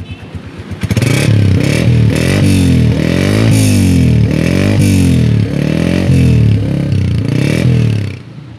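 A Honda self-start special edition motorcycle with a five-speed gearbox starts up and revs loudly and close by, its engine rising and falling through repeated throttle blips with a steady idle underneath.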